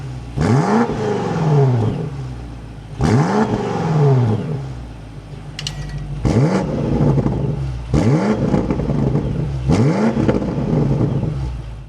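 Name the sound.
2026 BMW X5M Competition engine starting up and revving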